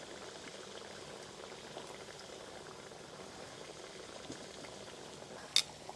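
Six potatoes frying in a shallow layer of oil for a spicy chicken curry dish, giving a faint, steady sizzle and bubbling that holds evenly throughout, with one brief sharp click near the end.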